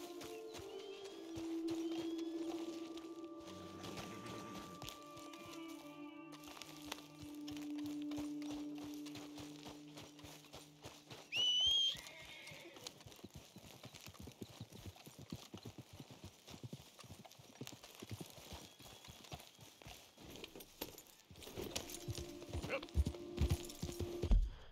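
Rhythmic clip-clop of horse hooves trotting steadily in the video game Red Dead Redemption 2, with a brief whinny and faint game music and talk in the background.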